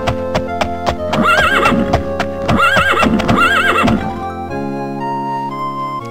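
A horse in the video game Daggerfall neighs loudly in two long whinnies while hooves clip-clop steadily throughout, close and prominent, with a fading tonal sound at the end and no talking.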